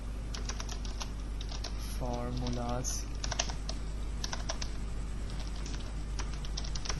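Quick bursts of typing on a computer keyboard while entering text into an Excel spreadsheet, close and clear, with someone talking over the clicks.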